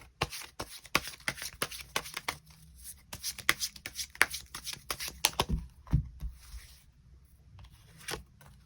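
Tarot cards being shuffled by hand, a close series of crisp riffling slaps and flutters in quick irregular bursts, ending with a few softer taps.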